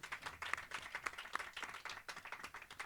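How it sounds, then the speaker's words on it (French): Soft applause from a small audience at a live radio show recorded in a media library: a patter of scattered claps, fairly quiet and steady, with a few louder individual claps. "Et il mérite les applaudissements Noël"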